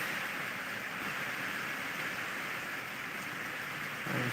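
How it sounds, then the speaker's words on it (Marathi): Heavy rain falls steadily in Khultabad, a dense, even hiss of drops on surfaces heard alone and close, with a slight thump near the end. "पाऊस खूप चालू आहे"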